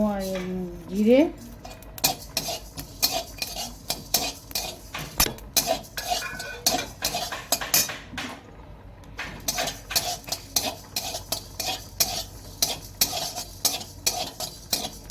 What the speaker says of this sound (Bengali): গোটা জিরে গোটা ধনে গোটা মৌরি আর একটু গোটা জোয়ান আমি এবার একসঙ্গে ভেজে নেবো